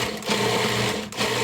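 A food processor grating potatoes for latkes, a loud continuous motor whir with tonal hum and slight dips in load, close and alone with no talking.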